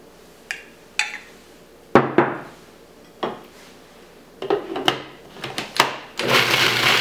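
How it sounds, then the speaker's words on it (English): Food processor whirring as it blends Panang curry paste, running in short bursts at first and then settling into a steady, loud grind near the end. "scrape down the side of the food processor and continue to let it run"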